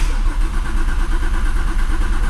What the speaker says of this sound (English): I'm about to crank it right now.